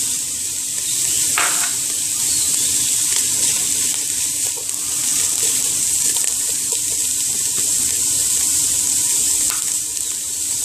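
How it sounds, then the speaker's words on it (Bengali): Green chillies, two whole and one chopped, fry in a pan for a cabbage and egg dish, making a loud, continuous hiss with a few faint clinks of a utensil. "কাঁচামরিচ দেব, দুটো আস্ত, একটা কুচি করে।"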